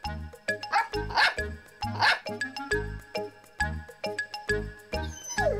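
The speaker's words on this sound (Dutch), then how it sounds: "Snuffy blaft vrolijk." A happy cartoon dog barks in a quick series of bright, lively yips over a cheerful musical backing from a children's animated Miffy episode, loud and close throughout.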